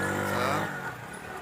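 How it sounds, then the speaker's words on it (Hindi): A motorcycle speeding past near maize fields, loud engine roar close by that drops away quickly as it passes, brief. "ये देखिए बहुत स्पीड से गुजर रहा है मोटरसाइकिल लेकर"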